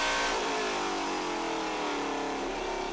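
Riley & Scott Mk III race car on the Road America circuit, its engine roaring loud and close at high revs in a steady, sustained howl with a slight pitch rise toward the end, no voices.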